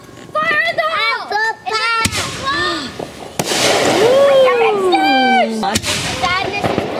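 Firecrackers going off at a backyard fireworks night, with sharp bangs at irregular intervals mixed among whistling, rising shrieks, while people shout and cheer loudly over much of it.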